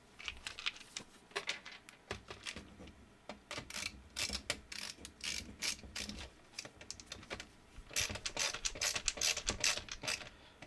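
Plastic heat sink retaining mechanisms are snapped onto an Asus P2B-D Pentium III motherboard to support heavy copper coolers, giving close, irregular clicks, snaps and scraping rubs throughout with no talking.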